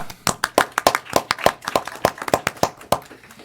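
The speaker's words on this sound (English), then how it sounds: "I'd like to start off with that round of applause now." A few people clap at a city council meeting, sparse, uneven hand claps rather than full applause, close and fairly loud with no talking.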